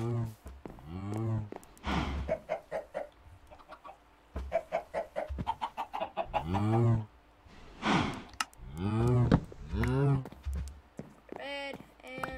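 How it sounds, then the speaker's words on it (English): Chickens cluck and squawk in the Minecraft video game, with repeated short calls over about twelve seconds, mixed with a person talking. "Get the chickens in there."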